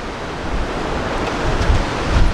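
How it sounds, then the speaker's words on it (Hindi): Glacier-fed water of the Kunhar River near Naran, Pakistan, rushing in a loud, dense, steady roar that swells slightly toward the end, heard up close with no voices. "नाज़रीन ये है जी दरियाए कुनहार, और ये ग्लेशियर का पानी है, बहुत ठंडा"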